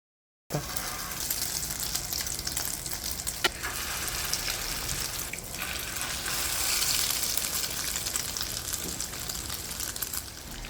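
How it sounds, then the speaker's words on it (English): Sesame parmesan crusted tilapia frying in hot oil in a skillet, a steady dense hiss of sizzling that starts abruptly after a moment of silence and continues unbroken, with a few faint clicks and no talk. "So we lay this side in the pot, in the skillet, and we're gonna let it cook until it's golden brown"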